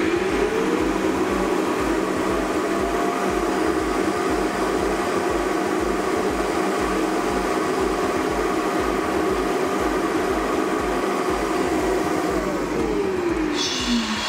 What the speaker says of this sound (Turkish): Şimdi süpürge toz toplamayı başlattı.